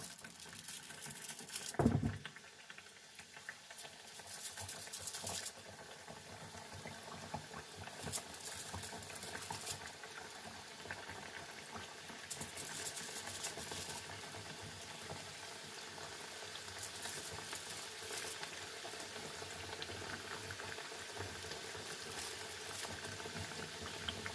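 Jaffna thattai vada, flat rounds of dough, sizzle in hot oil with a steady broadband crackle and bubbling that runs the whole time, plus a brief louder splash early on as a piece goes into the pan.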